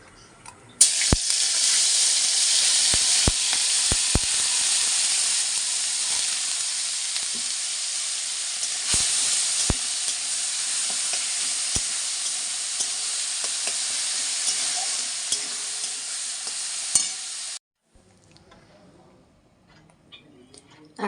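A chopped mix of chilli and tomato drops into hot oil in a home kitchen and sizzles loudly and steadily for about sixteen seconds with a few sharp clicks, then cuts to a quiet room.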